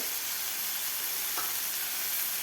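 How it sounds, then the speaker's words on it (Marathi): Onion, capsicum and other vegetables frying in a pan over high heat for mixed-vegetable paratha filling: a continuous, even sizzle with stirring, close and alone, without speech. "कांदासुद्धा व्यवस्थित फ्राय झालेला आहे"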